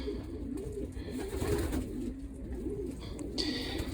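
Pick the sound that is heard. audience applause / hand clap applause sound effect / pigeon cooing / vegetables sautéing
pigeon cooing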